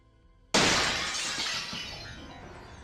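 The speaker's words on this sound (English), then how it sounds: "I woke up to the sound of my window shattering." A window pane shatters in a sudden loud crash, followed by a few seconds of tinkling, scattering glass fragments that slowly fade.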